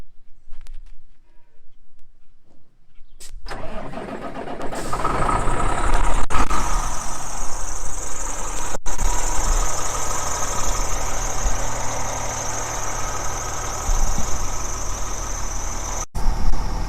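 After a quiet moment, a click leads into a semi truck diesel engine that starts up and settles into a steady, rumbling idle close by, with a few sharp clicks and knocks over the drone.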